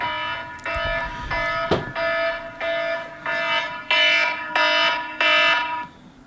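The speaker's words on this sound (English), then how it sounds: "That was my alarm to wake up." An alarm clock rings to wake someone up, a loud repeating electronic tone in about eight evenly spaced bursts, each holding for roughly half a second.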